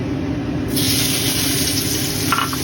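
Onion fries in hot oil for a tilapia chorchori, a steady, fairly loud hiss and sizzle that swells after a moment and continues without pause, with no voices.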